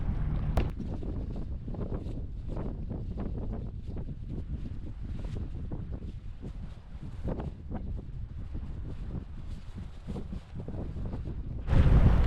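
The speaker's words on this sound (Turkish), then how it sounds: "Rüzgar karşıdan geliyor." Steady wind buffeting and rushing over open water, with a continuous low rumble and occasional gusts, growing louder near the end.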